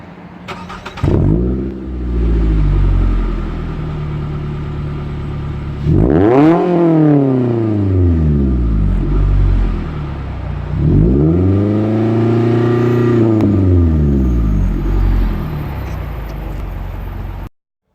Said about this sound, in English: I'll take a video of the exhaust from the back so you can see how much louder it is